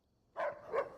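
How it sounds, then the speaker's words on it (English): Rex the dog from the Fallout video game barks twice in quick succession, close and fairly loud, after a brief quiet lead-in. "I decided to talk to our doggy here"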